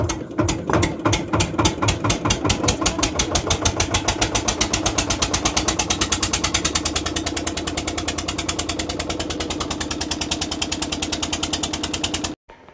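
A boat engine chugs on an evening river crossing from a ghat. The loud, close, steady rhythmic thumping runs without a break, then stops abruptly at the end.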